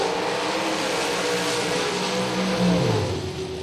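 Drag racing dragsters roar off the line at the Dixie House $10K Friday event, a loud, continuous engine blast filling the air that swells and then begins to fade as they accelerate away down the strip.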